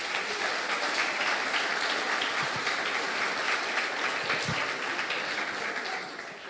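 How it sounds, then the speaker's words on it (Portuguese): A church congregation claps continuously, a dense, steady wash of applause that holds at full strength and fades slightly at the end. "dê uma linda salva de palmas ao Senhor"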